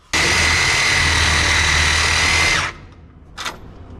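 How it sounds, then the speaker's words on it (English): A Sawzall reciprocating saw runs loud and steady for about two and a half seconds, cutting on a 1946 Chevy COE truck, then stops, followed by a brief short burst. "I need to cut one more thing with that Sawzall"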